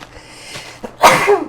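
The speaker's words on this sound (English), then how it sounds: "Oh, I have been sneezing a lot today." A person gives one loud, close sneeze with a short breathy intake just before it.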